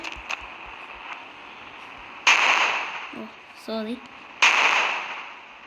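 Two sharp, loud blasts of gunfire in the game Indian Bike Driving 3D, a couple of seconds apart, each trailing off in a rumble, with a short electronic tone between them.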